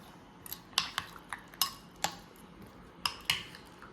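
A spoon clinks against a bowl while mixing a no-bake banana dessert with milk, giving about ten sharp, bright taps at an uneven rhythm, close and fairly quiet with no voices.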